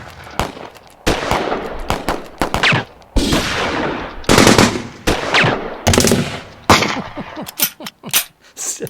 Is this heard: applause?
no